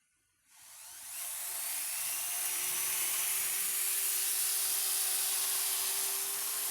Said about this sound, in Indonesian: Dengan menggunakan mata gerinda ini.